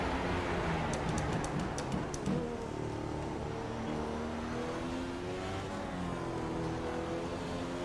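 Race car engine in the iRacing driving game during a hot lap, a loud sustained drone with rising and falling pitch as it accelerates and shifts, a few faint clicks early on, no speech.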